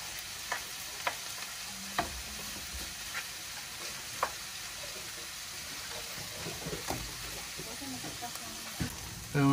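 Tofu sizzles steadily in a hot frying pan, with occasional clicks and scrapes of stirring and a voice briefly at the end.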